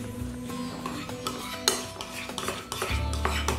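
A spoon stirring a turmeric face mask paste in a bowl, with repeated close clinks and scrapes of utensil against the dish in an irregular rhythm, no talking.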